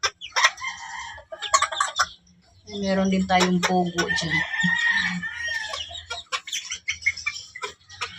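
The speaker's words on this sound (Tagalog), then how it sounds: "Mga maliliit na manok yan guys." Small pet chickens clucking and chirping in a backyard, a burst of bird calls in the middle, with someone talking over them before and after.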